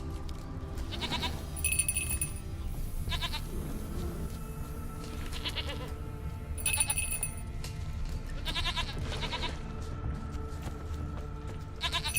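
Goat bleating in the video game The Witcher 3: Wild Hunt, several repeated nasal bleats scattered over a steady ambient game soundscape with a low background drone, moderately loud and close.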